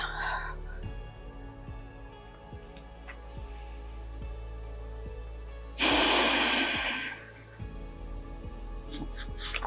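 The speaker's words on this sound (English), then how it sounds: "One more breath, inhale. And exhale." Slow, calm breathing during a reformer-based stretch exercise, soft faint breaths with one loud, airy exhale in the middle, and quiet background hum throughout.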